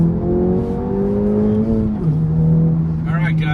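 A 2026 Acura Integra Type S fitted with a Whiteline adjustable rear sway bar pulls hard along a back road, its engine note climbing steadily before dropping at an upshift, then holding a strong, close drone.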